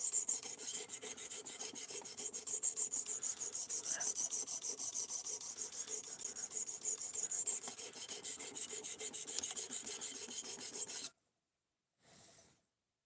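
Knife being sharpened by hand, a soft, rhythmic rasping of steel stroked repeatedly across a stone in an even, quiet pattern, stopping abruptly near the end before one brief final stroke.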